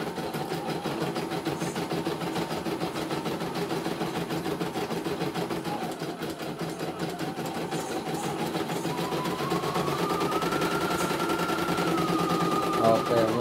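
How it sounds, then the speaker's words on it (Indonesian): A CNY E900 embroidery machine runs with a steady, fast mechanical rattle and hum, loud and continuous, with a rising whine toward the end. "Oke, mesin berjalan lancar."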